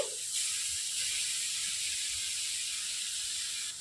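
Grated coconut going into a hot kadai to make a sweet filling: a steady close steamy hiss starts with a brief clatter and then holds evenly to the end, with no talk.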